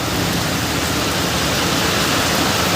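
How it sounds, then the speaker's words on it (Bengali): Heavy rain pours down outdoors in a storm with dark clouds, a steady dense hiss that fills the whole stretch without a break and with no other sounds standing out. "বহুদিন পরে দেখলাম মেঘ, তাই যে পড়তেছে, অনেক মেঘ পড়তেছে"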